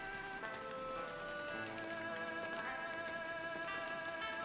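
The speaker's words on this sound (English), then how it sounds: "I love it when it rains in this game." Steady rain in the video game Shenmue hisses evenly over an in-game musical score with sustained tones, an unbroken wash of drops throughout with no talking.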